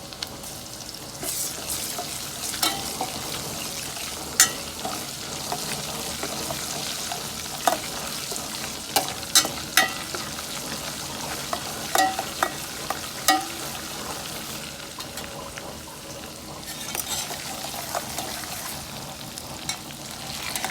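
Ginger paste frying in a pan, a continuous moderate sizzle with scattered sharp stirring taps and scrapes, no one speaking.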